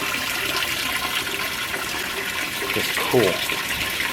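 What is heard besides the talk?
2015 Speed Queen washer filling with water, empty first wash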